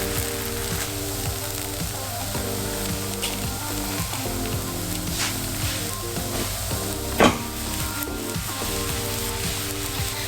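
A vegetable samosa fries in a pan with a constant close sizzle and crackle, broken by one sharp clack as it is flipped, over a faint steady tonal hum.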